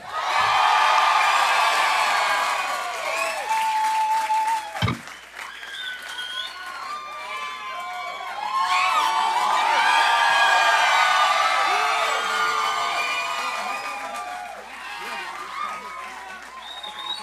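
A small studio audience of about 200 applauds and cheers as Linkin Park is welcomed into the Red Bull Sound Space, steady loud clapping with whoops, one sharp thump midway, then a second swell of applause before tapering.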